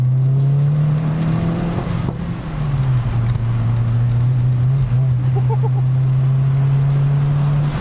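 A VW Golf 4 GTI 1.8T, stage 2 tuned with a Milltek exhaust, droning loudly and steadily from close by, its engine note dipping briefly and climbing back as it runs, with no talk over it.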